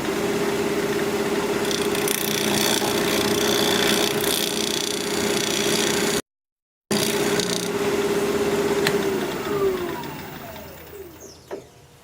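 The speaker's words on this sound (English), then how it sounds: "I'm just going to do some shear scraping on it" Shear scraping on a live-edge hawthorn bowl spinning on a wood lathe at 1800 RPM: a steady tonal hum with a raspy scraping texture, briefly cut off, then resuming before winding down and tapering away.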